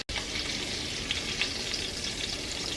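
Salmon fillet searing in a hot pan, a loud, dense, continuous sizzle close up with no voices.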